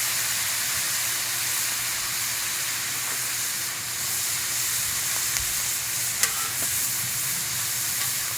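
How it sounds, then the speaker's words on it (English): Water sizzles and steams steadily on a hot griddle over a chimenea cooking barbecue outdoors, a continuous loud hiss with a few brief pops and crackles. "Can you hear the sizzle?"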